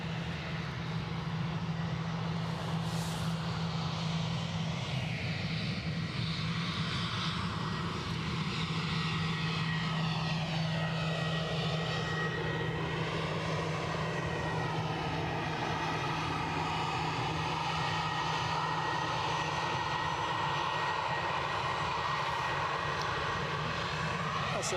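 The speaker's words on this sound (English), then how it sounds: "That's at least the second Austrian registered EasyJet on the show. This one being an A319-100." EasyJet Airbus A319-100 jet engines at an airport, a steady, distant rumble with a sweeping whine that shifts in pitch as the plane moves, under a constant low hum.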